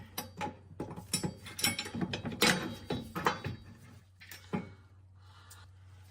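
A ratchet drives an M12 bolt through a PROGRESS subframe brace on an Acura RSX Type S, giving close, rapid clicking pawl bursts with metallic knocks that slow and thin out toward the end.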